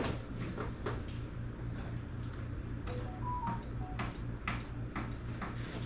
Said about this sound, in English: something's ticking